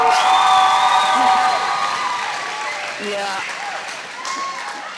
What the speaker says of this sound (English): our mics should pick up the home crowd about to go absolutely nuts